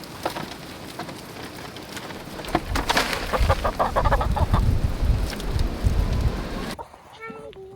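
Backyard chickens cluck and scratch through kitchen scraps in a compost pile, a busy close-up patter of pecking and soft clucks rising midway, with a brief quieter stretch and a few distinct calls at the end.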